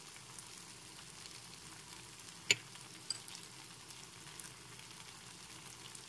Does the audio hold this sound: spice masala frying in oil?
yes